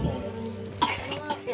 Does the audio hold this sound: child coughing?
yes